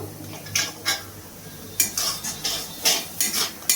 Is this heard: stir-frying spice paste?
yes